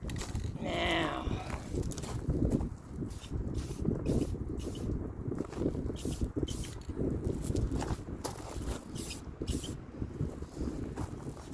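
Spray paint hissing from an aerosol can onto a toilet seat outdoors in the wind, in a long steady spray broken by short repeated bursts, with wind noise rumbling underneath.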